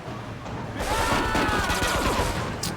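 A rapid burst of automatic gunfire in Grand Theft Auto III rattles continuously for a couple of seconds, dense and loud, with sharp cracks over a low rumble.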